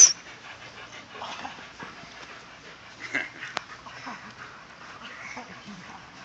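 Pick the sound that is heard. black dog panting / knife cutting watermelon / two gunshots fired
black dog panting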